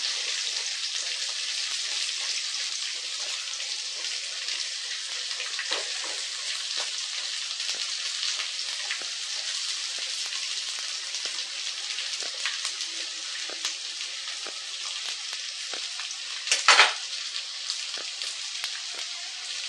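Jackfruit seeds sizzle in a pan over low heat, a close, even frying hiss that runs unbroken with faint clicks from stirring and one brief louder scrape near the end.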